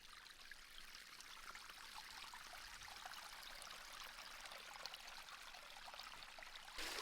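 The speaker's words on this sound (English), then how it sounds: "plug the pump on the pond for the first time this spring. We'll see, make sure it's working okay to get the water flowing" Continuous rushing of flowing water from a garden pond pump restarted in spring after winter, a steady splashing stream heard close up and alone.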